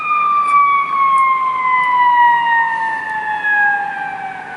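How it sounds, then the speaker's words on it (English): An ambulance siren wails along Michigan Avenue in Chicago, loud and close, its rising-falling tones sliding steadily lower as the vehicle passes, with faint city noise underneath. "it's just coincidence that an ambulance happens to just be coming by"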